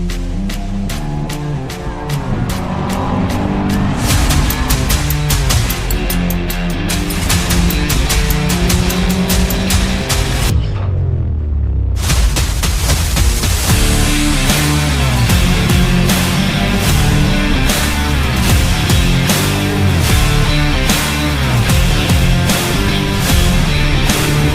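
A race car laps a track on fresh brake pads and discs while warming its tyres, the engine loud and close throughout, revving up and down through gear changes with a brief drop-out midway before roaring back.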